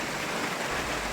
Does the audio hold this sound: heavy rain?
yes